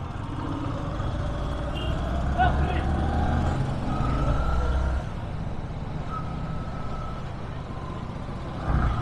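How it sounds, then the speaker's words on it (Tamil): Road traffic on a hill route to Kodaikanal, with trucks and cars idling and rumbling close by, a reversing beep chirping, and voices talking over the engine noise. "இங்கேயே டிராஃபிக் ஆரம்பிச்சிருச்சு."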